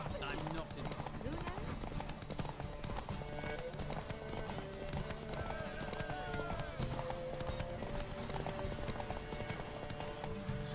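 Roach the horse gallops in a race in The Witcher 3, rhythmic hoofbeats pounding steadily and close under a bed of music and people shouting, with an occasional whinny.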